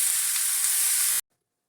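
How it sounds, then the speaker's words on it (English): Meat browns in a hot cast iron pan with a loud, steady sizzling hiss close by for just over a second, then cuts off abruptly to silence. "You get nice and browned enough and sizzling."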